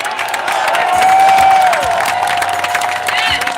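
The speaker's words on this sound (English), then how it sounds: "Give it up for him. Clap it up for him." Crowd at an outdoor Juneteenth rally for reparations applauds and cheers steadily and loudly throughout, with scattered shouts and a voice calling out over the clapping.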